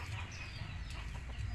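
A flock of healthy farm chickens clucks quietly and steadily at close range, with a few louder calls rising near the end, and no one speaks.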